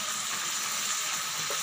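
Beef sizzles steadily in a pan while being fried for biryani, a constant bright hiss at moderate volume with no talking.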